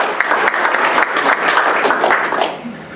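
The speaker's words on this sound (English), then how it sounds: "Let's give him a big round of applause." Audience applause honoring a veteran at a Veterans Day ceremony: a dense, steady wash of many hands clapping close by, holding strong for about two and a half seconds before easing off slightly at the end.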